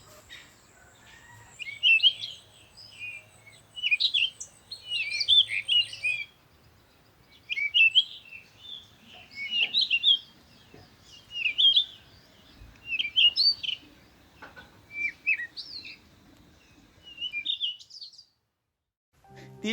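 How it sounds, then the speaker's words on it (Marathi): Birds chirp and tweet in the Konkan countryside around the village of Talavli, their bright calls arriving in short, repeated bursts every couple of seconds against a quiet rural backdrop with no talk. "पक्ष्यांच्या किलबिलाटाने मनाला एक वेगळा आनंद मिळतो."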